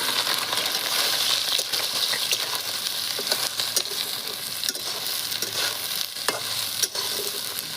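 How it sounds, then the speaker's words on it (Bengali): Soybean chunks fry in hot white oil in a kadai, giving a loud, dense sizzle close by, with scraping and stirring clatter scattered through it and no voices. "তেলটা গরম হয়ে গেছে সয়াবিন কয়টা ভাজে"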